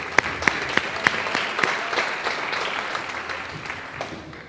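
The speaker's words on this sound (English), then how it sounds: "Let's give them a round of applause." Audience applause at a community college district fall convocation, honoring interest-based approach trainees and facilitators; a few sharp claps stand out early, then a moderate steady patter that slowly fades.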